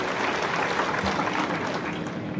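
An audience at a political gathering in Indapur claps steadily for Jayantrao, a dense, even wash of applause that holds at a constant level for the whole moment.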